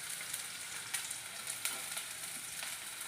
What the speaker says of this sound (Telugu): దీంట్లో నూనె బాగా కాగిపోయింది, ఆనియన్స్ వేస్తున్నాను నేను.